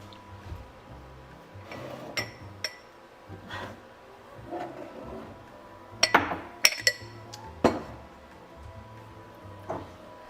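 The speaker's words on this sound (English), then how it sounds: "We get a nice clear glass." A clear glass clinks and taps in a home kitchen while a green slushie is made, with a few sharp close clinks over soft handling noise and faint background sound.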